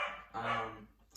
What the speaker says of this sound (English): excuse my dog barking